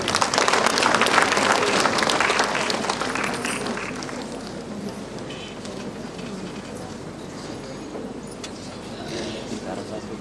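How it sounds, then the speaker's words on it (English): A crowd claps loudly in sustained applause that gradually fades to a softer, steady patter, with a murmur of voices underneath. "Please welcome them with a warm round of applause."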